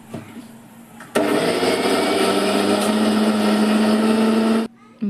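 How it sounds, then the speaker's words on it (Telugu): A mixer grinder whirs loud and steady for about three and a half seconds, grinding curry leaves with garlic cloves and salt into a coarse spice powder, starting and stopping abruptly with quieter moments at either end. "దీనిలోకి వెల్లుల్లి రెబ్బలు కూడా వేసుకోండి. వేసుకొని మిక్సీ పట్టండి."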